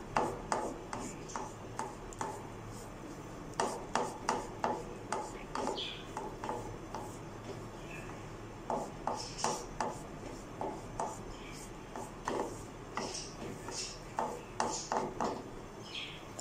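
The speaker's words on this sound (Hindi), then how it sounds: "अब इसको हम थोड़ा स्लो आंच पे अच्छी तरह भूनेंगे।" Besan (gram flour) stirred and roasted in a pan over low heat for halwa, a repeated scraping and rubbing of a spoon against the pan in uneven bursts, close and moderately loud.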